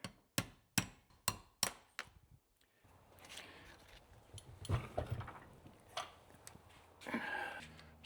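A hammer taps a pin out of a gearbox part on a Subaru Brumby EJ25 build, with five sharp, evenly spaced metallic knocks, then quieter handling and shuffling noises nearby.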